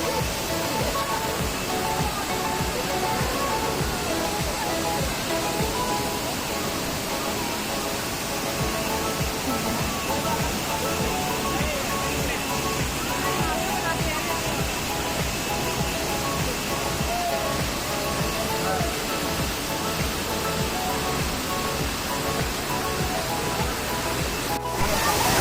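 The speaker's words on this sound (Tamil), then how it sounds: "இந்த அருவியில் ஊற்றுற தண்ணியும் காவிரி தண்ணி தாங்க" Kaveri river water pours down a waterfall in Coorg, a steady full roar of rushing water that holds evenly and close throughout, with no break.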